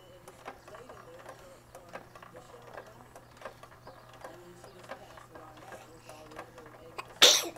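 A single abrupt sneeze bursts out near the end, loud and close, after several seconds of quiet room noise with faint clicks, soft mechanical ticking and a low steady hum.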